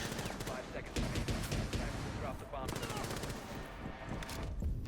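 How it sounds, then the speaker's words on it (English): Rapid gunfire rattles through a Rainbow Six Siege match, with several quick automatic bursts and single shots over busy game noise, and a commentator talks over the action. "The shots come out from Bandit, taking out KG"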